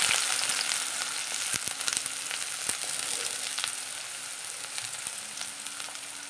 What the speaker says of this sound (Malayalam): നമ്മൾ കുറച്ച് വെളിച്ചെണ്ണ ഒഴിച്ച് കൊടുത്തിട്ടുണ്ട് ഇനി ഇഞ്ചി ഇട്ട് കൊടുക്കാം സബോള ഇട്ട് കൊടുക്കാം